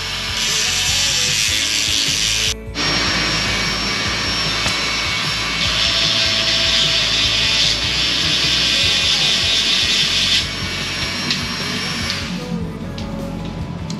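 A power tool grinds steadily and loudly at a small silver metal nub on a Honda Dax125 motorcycle part, a continuous high whine with a short break near the start.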